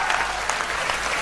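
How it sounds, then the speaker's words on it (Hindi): Sustained applause from an audience at a Hindi kavi sammelan poetry recital about Maharana Pratap: a dense, even wash of many hands clapping, steady and fairly loud throughout with no voices over it. "पंक्ति अगर आपके हृदय तक पहुंच जाए तो दोनों हाथ उठा के तालियों का महोत्सव करना।"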